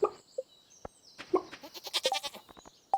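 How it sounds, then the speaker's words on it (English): Goat bleating in the farming video game Stardew Valley, several short nasal bleats spread across a few seconds, clear and close, with soft game effects in between and no talking. "Here's the goat."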